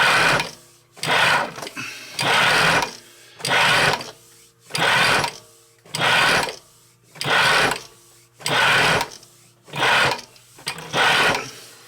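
A Pfaff 463 sewing machine runs fabric through in about nine even bursts of loud, close whirring and stitching, each about a second long and split by short quiet gaps, with no talking.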